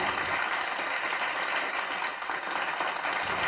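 Steady applause from a seated audience at a stage event in India welcoming a guest, dense continuous clapping throughout with no speech over it.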